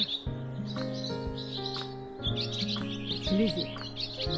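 Several birds tweet and twitter on a flowering spring day, lively overlapping chirps over a continuous low hum, with a louder flurry toward the end.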